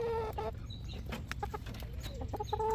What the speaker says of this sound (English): when you got approximately 64 chickens all together